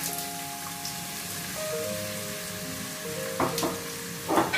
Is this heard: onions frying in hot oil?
yes